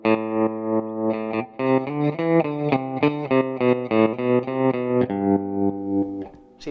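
Electric guitar chords pulsing through a JHS Kodiak tremolo pedal, each strum's attack clear before the sound wavers rhythmically, played alone for several bars.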